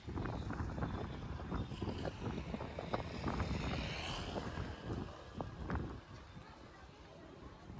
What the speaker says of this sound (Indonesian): Anginnya banyak.